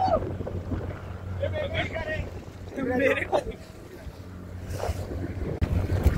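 A motor boat crosses the water toward Kolaba Fort at Alibag, its engine droning under wind buffeting and splashing, while people talk nearby.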